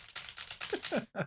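Quiet, quick clatter of keys being typed on a computer keyboard, an irregular burst of taps with brief pauses.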